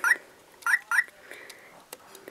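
Aquapets electronic toy chirping from its sound sensor: three short, bright electronic chirps close by, followed by quieter clicks and faint handling noise.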